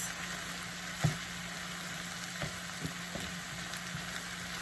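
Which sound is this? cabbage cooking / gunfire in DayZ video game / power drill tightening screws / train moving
cabbage cooking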